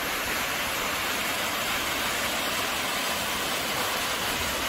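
Songchu Waterfall pours steadily over large rocks, a continuous broadband rush of falling water that holds unbroken for the whole stretch, close and evenly loud.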